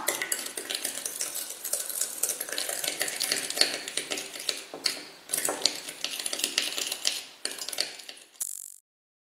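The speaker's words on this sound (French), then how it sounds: "Il faut mélanger tout ça." Vitamin C night serum ingredients being stirred together in a small container: quick scraping and clinking of a utensil against the sides in irregular bursts with short pauses, close up, ending abruptly.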